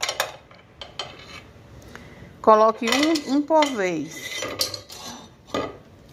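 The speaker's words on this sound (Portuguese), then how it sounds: "Aqui dentro da panela você tem que espremer." Garlic cloves are pressed with metal utensils inside a cooking pan for creamy rice, giving scraping, clinking metal-on-metal sounds in uneven bursts, with a voice speaking briefly.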